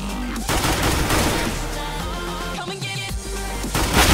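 Dense gunfire in a shooter video game, with sustained rapid bursts of shots and explosive impacts layered over continuous game sound, loud and unbroken throughout.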